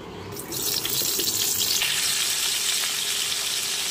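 Sliced pointed gourd (potol) hits hot oil in a kadai, and after a brief quieter moment a loud, steady frying sizzle erupts and holds.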